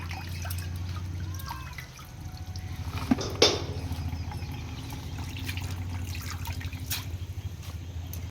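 Water drips and trickles off freshly washed leafy greens in a home kitchen, a soft, steady draining patter with a couple of brief clinks from a pan or bowl and no speech.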